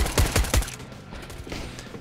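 A rapid burst of automatic M4A4 gunfire spraying in Counter-Strike: Global Offensive, several quick shots in a row, then fading into quieter background noise.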